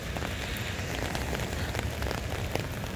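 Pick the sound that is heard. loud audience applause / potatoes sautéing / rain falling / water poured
rain falling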